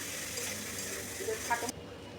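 Onions frying in a pan with salt and turmeric, a soft steady sizzle with occasional stirring scrapes, moderately faint, and a few brief clinks near the end.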